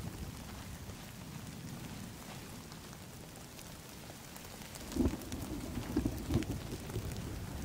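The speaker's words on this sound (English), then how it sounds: "it's hard to hear stuff when it's raining" Steady rainfall in the video game The Cycle: Frontier hisses softly throughout, with a few low rumbles and thuds later on, quiet and continuous, no speech.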